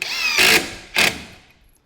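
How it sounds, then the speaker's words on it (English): A Ryobi impact driver with a Phillips bit drives 2-inch drywall screws in two short, loud bursts of rapid hammering whine, each about a quarter second long with a brief gap between, close up and with no talking. "I'm going to start with some screws with my impact driver."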